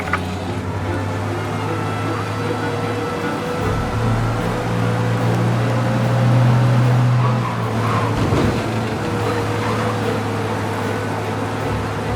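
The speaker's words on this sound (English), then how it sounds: "We lose them by driving real fast and getting clear of them" A car engine roars continuously at speed in Mafia: Definitive Edition, rising and falling as it flees a police pursuit, with faint game-like effects and a low rumble throughout.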